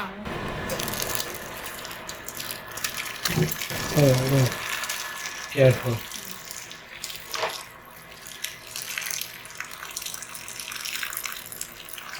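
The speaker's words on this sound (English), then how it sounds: "I will just now pour the cheese." Curdled milk for chhena is poured through a cheesecloth-lined strainer, giving a splashing, gushing stream of liquid in bursts, with a brief spoken remark partway through.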